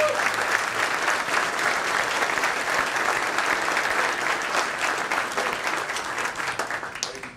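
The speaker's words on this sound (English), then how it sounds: "let's give a round of applause to Cadet Senior Master Sergeant Christian Sh" Audience applause at a ribbon ceremony for the Destin-Fort Walton Beach Airport Concourse C, sustained dense clapping from a crowd that gradually thins out toward the end.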